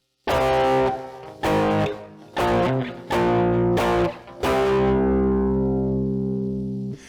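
Heavily distorted electric guitar chords from a song strike in a rhythmic sequence, five short bursts followed by one long ringing chord that slowly fades.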